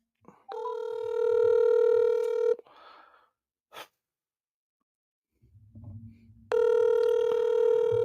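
A telephone call placed to someone whose voicemail picks up: two long, steady electronic ring tones separated by a pause, with faint rustling and a brief click in the quiet gap between them.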